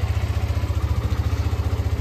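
A motorcycle engine idles steadily just after starting, with a low, even, rhythmic thrum and slight clatter, close and fairly loud, no talk.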